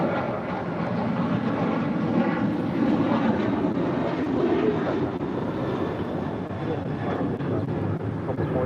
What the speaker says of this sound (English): This is American Airlines 2885 departing to Nashville on a 737-800